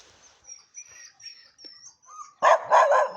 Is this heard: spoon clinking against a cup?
no